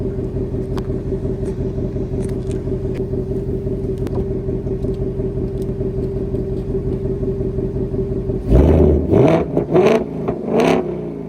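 Ford Mustang S650 engine from behind the car, first a steady idling rumble with a faint whine, then several sharp revs swelling and dropping back in quick succession near the end.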